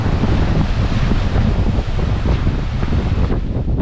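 Strong wind buffets the microphone on a beach in Lanzarote as rough sea waves roll in, producing a loud, continuous roar with no speech.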